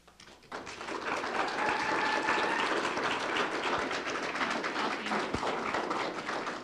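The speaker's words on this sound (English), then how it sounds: "No clapping, please, you guys." Audience clapping at a public redistricting commission hearing in Tucson, Arizona, a broad steady patter of many hands that swells after the first half second and holds at a fairly loud level throughout.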